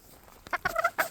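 A barnyard fowl, likely a turkey, gobbling in a few quick bursts close by, short rattling calls with brief gaps between them and no talking.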